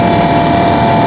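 An air conditioner's compressor and condenser run steadily in a loud, close, continuous drone with a constant hum and whirring fan noise, the compressor not yet at full speed.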